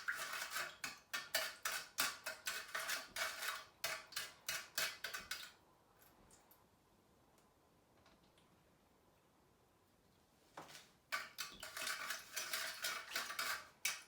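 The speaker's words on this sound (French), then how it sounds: "Et puis mélanger and then mix" Batter for plantain chips is mixed in a bowl, with rapid rhythmic clinking of a utensil against the bowl in two loud bursts separated by a quiet pause of several seconds.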